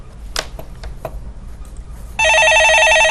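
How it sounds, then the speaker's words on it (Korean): Desk telephone rings with an incoming call in a studio, a loud continuous electronic trill starting after a few faint clicks and taps. "예, 전화 받아보겠습니다."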